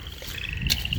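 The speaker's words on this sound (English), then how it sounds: "frogs are going off over here" Frogs call outdoors on a farm near a wire fence, a steady chorus of high repeated croaks and trills heard close for about a second, with low rumble beneath.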